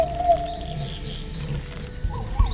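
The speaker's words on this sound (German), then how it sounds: "Und das Vogelgezwitscher ist ganz schön laut, ey." Birdsong and insect-like chirping in the video game Gothic 2, a steady high whistling tone with a few brief chirps and tweets over soft ambient background, no talking.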